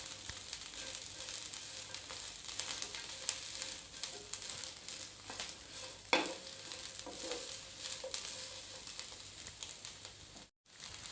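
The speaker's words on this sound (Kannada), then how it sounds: "ಮೆಣಸಿನ್ಕಾಯಿನ ಚೆನ್ನಾಗಿ ಫ್ರೈ ಮಾಡ್ಕೋಬೇಕು." Green chillies frying in a pan for mirchi masala make a continuous soft sizzle with scraping stirs and one sharp crackle, fading to a brief silence near the end.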